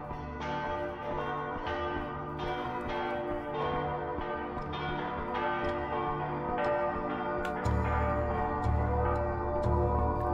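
Slow, heavy church-style bells toll repeatedly in the horror video game Simulacrum, each deep ringing stroke layered over a sustained resonant drone that thickens toward the end, with no voices.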